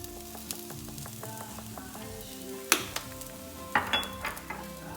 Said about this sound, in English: we'll just keep sauteing all of this mixture together